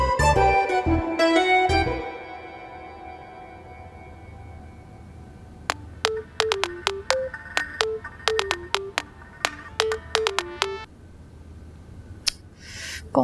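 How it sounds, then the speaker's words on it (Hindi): A few loud musical tones open, followed by a phone ringing in quick, repeated chirpy electronic bursts that stop and start with brief pauses. "फोन तो उठाओ।"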